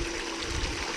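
Water dropping from a gold sluice into a black tub, a continuous close rushing splash with no pauses.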